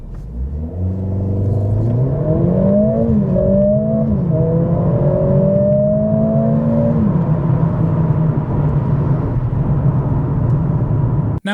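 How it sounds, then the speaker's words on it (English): A Mercedes-AMG CLA45 S engine revs hard through several rising gear pulls in comfort mode with the exhaust valve closed, each climbing then dropping, before settling into a steady loud drone; no talking. "here's how it sounds accelerating hard in comfort mode with the exhaust switched off"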